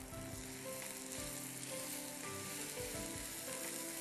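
Rice added to pulao frying in a pot, a faint but steady hiss of sizzling oil with occasional soft stirring bumps and faint background music.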